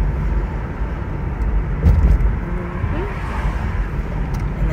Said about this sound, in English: Just going for a little drive back to the house.